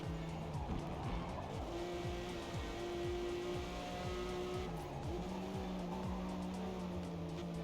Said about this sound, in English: Lots of engine braking there.